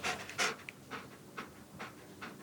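A dog pants in short, quick breathy bursts during trick training, close by, with brief pauses between them.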